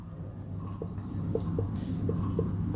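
Pen scratching out Sanskrit text by hand on paper, with soft, faint strokes and a few light taps over a low steady hum, with no voices.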